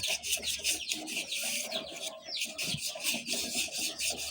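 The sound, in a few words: sanding rusty electric fan shaft with fine sandpaper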